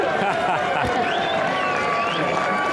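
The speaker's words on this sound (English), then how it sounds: "Huge cheer." A racecourse crowd at the Cheltenham Festival Gold Cup cheers and claps in a steady roar, with talk close by over the noise.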